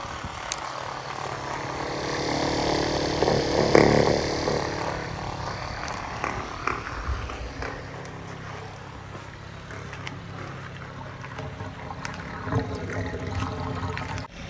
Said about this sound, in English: So we are still pumping water